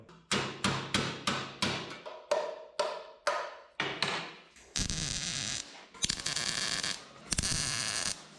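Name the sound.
hammering truck body metal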